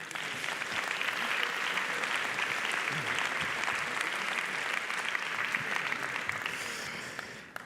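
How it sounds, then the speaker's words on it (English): Audience at the Helsinki+50 conference applauds, a dense, even round of clapping that holds for several seconds and fades near the end. "One more round of applause,"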